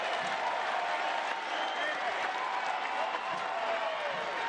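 Stadium crowd at a Tampa Bay Rowdies soccer match applauds a bicycle kick attempt, a steady wash of clapping and cheering spread across the stands, sustained and fairly distant under faint commentary.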